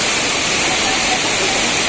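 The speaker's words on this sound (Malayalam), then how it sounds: "വെള്ളം ഒഴുകി ഒഴുകി ഒഴുകി" Areekkal waterfall in Kerala roars with a dense, constant rush of falling water, loud and close, a steady wash of noise that buries any faint voices.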